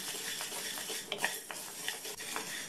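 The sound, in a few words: dry roasting green gram (moong) in an empty pan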